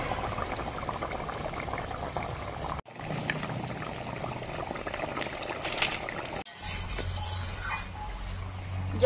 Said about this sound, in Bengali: এখন দিয়ে দেবো আমি জল।